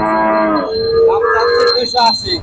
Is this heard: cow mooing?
yes